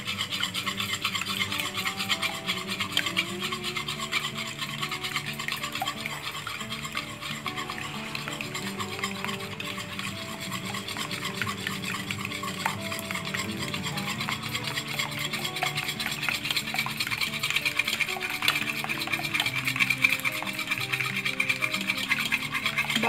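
Eggs are beaten for chocolate sponge cake batter, a continuous rapid scraping and whisking rhythm against the bowl that runs unbroken and close for the whole stretch, with no talk.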